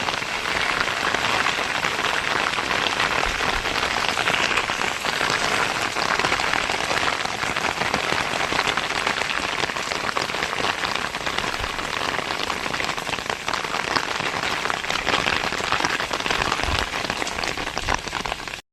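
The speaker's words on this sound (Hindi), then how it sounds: "एक साथ इतनी तेज़ बारिश आई" Heavy rain pours steadily onto a surface while the sun shines, a dense, loud, unbroken patter that stays constant throughout.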